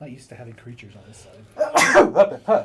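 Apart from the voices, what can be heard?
sneeze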